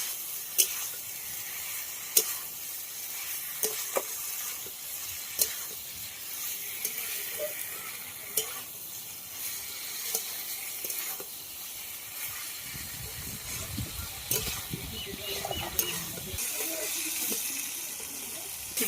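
Fried jackfruit with chicken is stir-fried in a pan, producing a steady hissing sizzle with scattered scrapes and clacks of stirring, a lower rumbling stretch late on, and some speech in the background.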